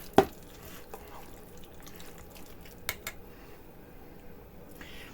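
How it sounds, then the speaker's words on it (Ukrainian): Minced meat is stirred into a liquid batter in a bowl: soft, faint wet swishing and sloshing, close up, with a sharp clink near the start and a few small knocks. "Тепер цю суміш потрібно добре розмішати, щоб розподілився наш фарш рівномірно по всій рідині."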